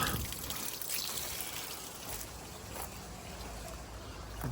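Water rushes steadily through a hose line on a metal roof softwashing rig, a continuous hissing, splashing flow close by with no talk.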